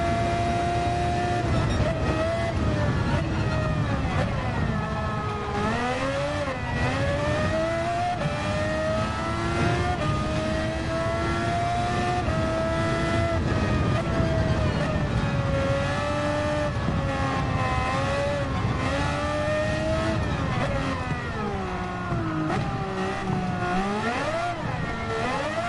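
A race car engine in Gran Turismo 7 revs and accelerates steadily for the whole stretch, its pitch climbing and dipping through gear changes, loud and constant with no talking.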